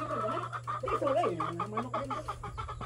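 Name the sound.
chickens clucking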